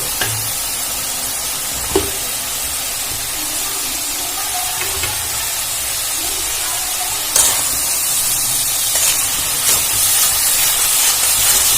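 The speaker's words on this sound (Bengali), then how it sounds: "টমেটোটা খুব ভালো করে কষানো হয়ে গেলে আমি দিয়ে দেব হলুদ" Tomatoes fry in a pan for a Bengali-style chicken curry, a constant loud steamy hiss with a few sharp stirring knocks and a brief louder surge partway through.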